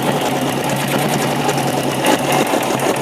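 A 1956 BSA BB31 motorcycle engine revs with a fast, steady, buzzing beat that stays close and loud the whole time, with no voices over it.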